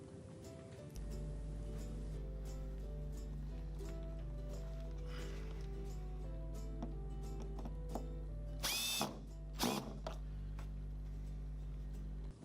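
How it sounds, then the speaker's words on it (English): A power screwdriver drives a screw into a hose reel axle cap, two short whirring bursts close by near the end, over a steady hum and background music. "Lock the axle cap in place with 1 screw."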